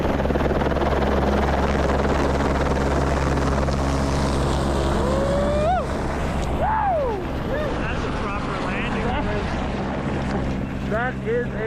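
A helicopter lifts off after dropping off heliskiers in snowy Alaskan mountains, its steady rotor and engine roar loud and close, with wind buffeting and people's voices and whistles over it.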